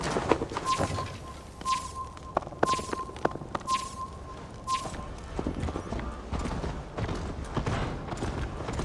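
Horse hooves clip-clop steadily in Assassin's Creed Valhalla, with a mid-distance rhythmic trot accompanied by sharp clicks and soft game ambience.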